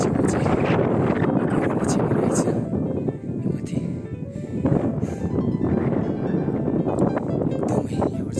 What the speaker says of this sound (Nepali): हावा मजाले चल्छ